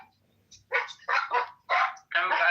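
A dog gives a run of four or five loud, close barks in quick bursts with short gaps between them.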